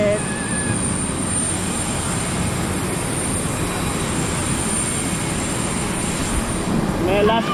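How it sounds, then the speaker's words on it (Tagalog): An airline jet at an airport gives a steady, loud engine roar that holds for several seconds, with faint voices talking underneath. "Airline jet."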